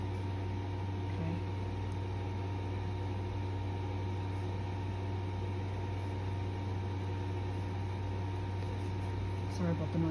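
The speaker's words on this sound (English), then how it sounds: "Sorry about the noise, guys. It's my air conditioner." A household air conditioner runs steadily in a Florida home, a constant droning hum with a broad airy hiss that stays level and unchanging throughout, with no break or variation.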